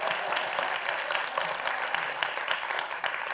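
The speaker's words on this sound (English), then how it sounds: "You can all clap here." Audience clapping at an LA Made program with Charles Phoenix, a dense, lively burst of many hands applauding close by, steady and bright with scattered sharper claps, continuing for a few seconds without talk.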